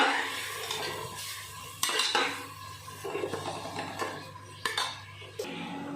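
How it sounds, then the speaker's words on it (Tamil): Tomatoes with salt are stirred in a pan for sambar rice, with repeated metallic scrapes and clanks of a spoon on the vessel over a soft, low sizzle. "சேர்த்துட்டு அதுக்கு நல்லா இப்போ வதக்கி விட்டுக்கலாம்"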